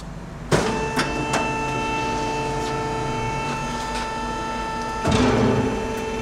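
A 1998 Amada HFA500CNC horizontal band saw running, a steady mechanical hum with tonal whine, punctuated by a clunk at the start and another knock near the end as the machine returns to its origin position.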